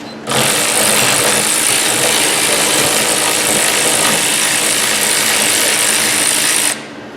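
A ratchet loosens the upper rear brake caliper bolt on a Hyundai Elantra during a pad and rotor job. A loud, steady buzzing whir runs for about six seconds, starting and stopping abruptly, close to the microphone.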